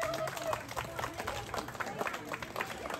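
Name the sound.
loud applause for the participants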